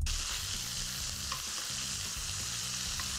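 Strands of chicken searing in a hot pan, a loud steady sizzle with rhythmic stirring scrapes running throughout, close up with no voices.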